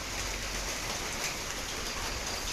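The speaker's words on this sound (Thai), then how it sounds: "นี่คือภาพบรรยากาศเด้อพี่น้องเด้อฝนตกยามเช้า" Heavy rain falls steadily on an early morning, a dense continuous hiss of drops on surfaces with no voices, constant and even throughout.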